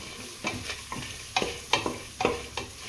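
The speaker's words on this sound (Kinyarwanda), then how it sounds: "Tugiye kubanzamo igitunguru mu safuriya ibereye aho ngaho." Onion stirred and sautéed in a dry pan with no oil, giving a series of scraping stirs and soft crackles at a steady pace, close and moderately loud, with no talking.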